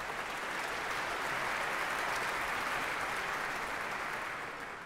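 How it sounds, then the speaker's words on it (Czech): Applause from a concert audience after a Stravinsky Rite of Spring performance by Czech students, a dense, even wash of many hands clapping, heard from some distance and fading slightly at the end. "Potlesk patří i vám."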